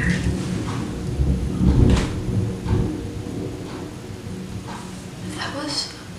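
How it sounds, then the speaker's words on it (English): Thunder from a storm rolls outside a house in low, rumbling swells that peak and fade, with a person talking over it and some faint indoor knocks. "God, there's thunder"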